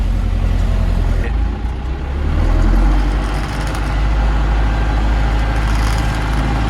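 A heavy MTZ tractor engine idles steadily with a deep, constant low rumble, close by, with some faint background clatter and no talking.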